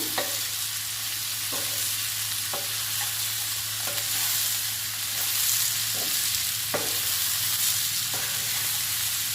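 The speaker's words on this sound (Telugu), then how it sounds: "ఇప్పుడు మసాలా, గోరుచిక్కుడు ముక్కలు కలుపుకుందాము." Masala and cut cluster bean pieces stirred through a hot pan for curry, a steady close sizzle running throughout with regular scraping knocks of the spoon against the pan.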